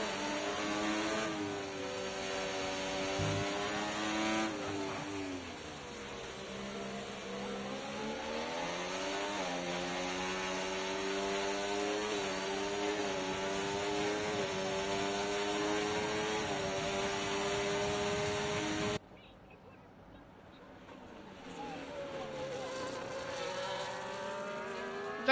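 McLaren race car engine fighting for position during a race, a steady high-pitched whine that rises and falls with gear changes and throttle, then cuts briefly before resuming at a distance.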